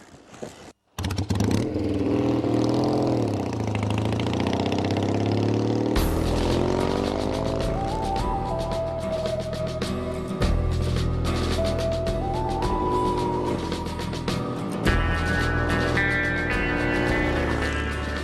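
A Triumph Rickman Metisse cafe racer motorcycle is bump started, catching after a brief thump and then running loud and close, its engine note revving up and down in rising sweeps throughout.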